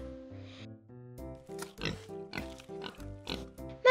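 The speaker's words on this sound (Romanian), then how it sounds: "Porcul face guiț, guiț!" Short pig oinks and snorts come in quick bursts over a light musical accompaniment, fairly soft overall.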